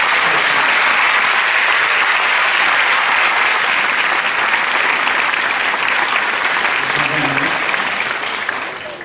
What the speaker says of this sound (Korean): 우리 다 박수로 격려합니다